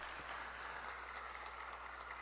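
Faint applause rises from the crowd at a political party's founding event, a thin distant patter of clapping over a low steady hum.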